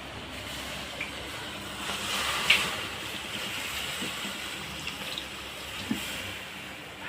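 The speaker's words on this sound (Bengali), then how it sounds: "এখন পরিমাণ মতন জল দেবো" Water poured into a cooking pot of pumpkin, potato and spinach, a soft, even splashing wash with a few faint clinks, fairly quiet and without speech.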